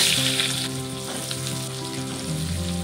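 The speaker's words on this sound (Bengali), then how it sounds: "রসুনটা একটু ভাজা হয়ে এসেছে, এখন দিয়ে দেবো পেঁয়াজ" Onion dropped into hot frying oil already holding black cumin and whole garlic cloves gives a steady, close sizzle that holds for a few seconds.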